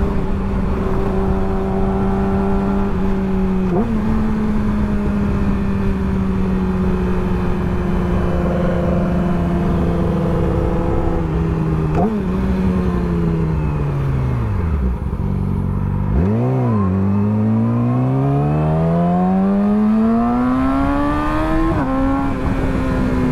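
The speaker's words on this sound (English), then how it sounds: "the quick shifter on this bike sounds so crazy." A motorcycle with a quick shifter accelerates hard, its loud engine note climbing through several sharp, rapid gear changes that each cut the revs briefly before the pitch rises again; no voices.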